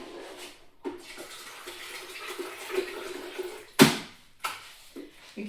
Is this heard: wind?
no